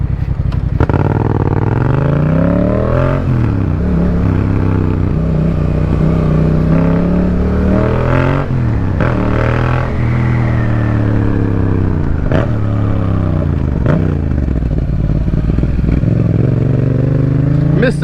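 2020 Yamaha XSR700 motorcycle engine and exhaust, loud and close, revving repeatedly in rising and falling sweeps with a barking exhaust note, a voice briefly speaking over it.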